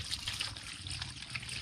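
Liquid trickles and pours steadily at close range while a whole large queenfish is prepared for grilling, a soft continuous splashing stream with no voices over it.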